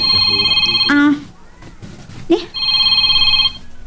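A cellphone rings loudly in an office with repeated electronic trill bursts, broken by a short pause where a voice speaks before the ringing resumes.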